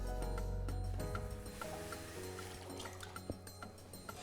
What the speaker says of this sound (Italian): Prendiamo lo zucchero e lo mettiamo nell'acqua.